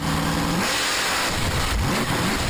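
A monster truck engine revs loudly and steadily, with rising and falling engine pitch close by and no voices over it.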